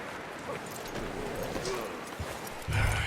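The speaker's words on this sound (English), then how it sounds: "You should really tether that horse, Arthur." Horse hooves in the video game Red Dead Redemption 2 clip-clop softly at a slow walk beneath faint background noise, ending in a louder rustle.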